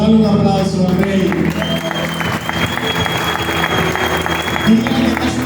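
Church congregation applauding steadily and loudly for several seconds, with voices and shouts mixed through the dense clapping.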